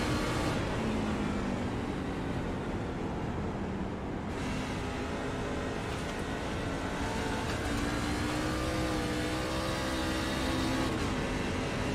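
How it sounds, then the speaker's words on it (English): A NASCAR race car engine on an in-car qualifying lap at Gateway, World Wide Technology Raceway roars loud and continuous, with a pitch drop at a downshift and steady high-revving drone after. "So I think we're hearing the downshift."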